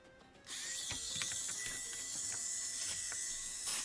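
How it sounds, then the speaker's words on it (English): Electric foot sander used as a callus remover, sanding a workpiece in a small indoor workshop: a quiet whirring motor with rapid rattling, ratchet-like clicks starting abruptly after half a second and running steadily. "it's an electric foot sander. It's a callus remover."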